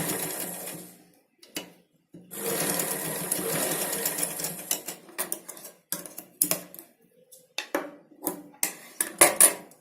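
A sewing machine stitches a blouse back neck in quick bursts, a close mechanical rattling whir that starts and stops repeatedly, with short pauses and faint clicks between runs.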